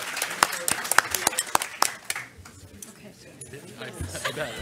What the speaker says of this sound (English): a second round of applause for our amazing panelists